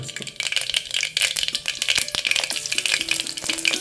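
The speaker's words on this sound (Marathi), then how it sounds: "कुकरमध्ये श्रुतिकाने तेल घेतलेलं आहे दोन चमचे तेल घेतले आणि जिरे घालायची आणि लाल बेडगी मिरची घालायची" Cumin seeds and red byadgi chillies sizzle in hot oil inside a pressure cooker for a tempering, making a steady close crackle with light rattles and stirring clinks throughout.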